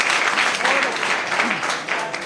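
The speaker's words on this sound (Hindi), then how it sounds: "एक जोरदार ताली बजाइए।" A classroom audience in an English coaching class claps together in a loud, continuous round of applause. The dense patter is close and holds steady for about two seconds without letting up.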